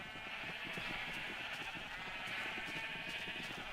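Sheep bleat repeatedly in a video game, a steady dense chorus of overlapping calls layered over a continuous busy background with no talk.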